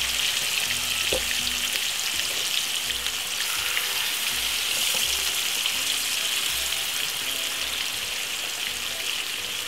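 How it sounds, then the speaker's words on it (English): Four pieces of pork frying in a pan, a steady dense crackling sizzle that holds evenly throughout with a few faint pops, close and alone without voices. "we're gonna fry them roughly about 10 minutes on both sides"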